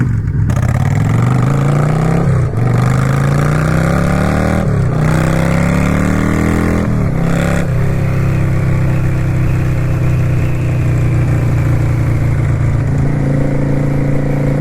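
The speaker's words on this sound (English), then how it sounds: "if we're heavy on the throttle and we bang through a few gears, we're going over 100 like that" Yamaha V-Star XVS 650 cruiser motorcycle pulls hard through the gears under heavy throttle, its loud, close engine climbing in pitch, briefly dropping at each of several quick shifts, then holding a steady drone.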